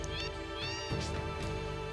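A cat meows repeatedly in Final Fantasy VII, a clear, close series of drawn-out cries standing alone without talk.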